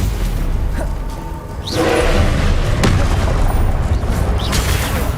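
Stupefy spell impacts in the Hogwarts Legacy video game land as loud, heavy booms and thuds with swishing whooshes, one burst after another over a dense, rumbling backdrop.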